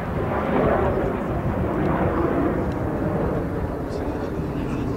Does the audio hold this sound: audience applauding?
no